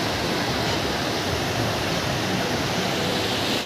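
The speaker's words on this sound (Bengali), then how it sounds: "তাতেই জলের স্রোত দেখো কি স্রোত" Water roars through a single opened gate of a barrage, a dense, loud, steady torrent of rushing flow with no voices over it.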